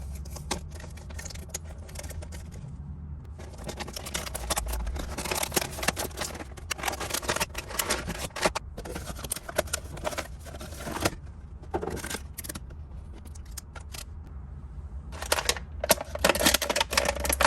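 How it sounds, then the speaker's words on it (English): McFarlane Disney Mirrorverse Sulley action figure packaging being opened, a steady run of close crinkling, clicking and rustling plastic and cardboard handling noises with brief pauses, no talking. "So now let's get him open."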